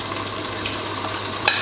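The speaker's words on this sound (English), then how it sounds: "So I'm going to add my beans." Beans are added to a cooking pot of water on the stove, giving a steady hiss and sizzle with soft stirring and a small clink near the end, close and without talk.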